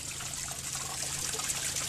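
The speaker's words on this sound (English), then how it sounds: "water coming right here out of the rock here in between," Water trickling out of a rock face beside the C&O Canal bike trail, giving a steady, faint, hissy flow with soft bubbling, heard alone without talk.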